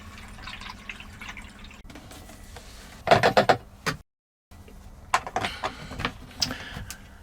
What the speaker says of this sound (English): pouring in this toilet rinse. That should make the water smell very fragrant.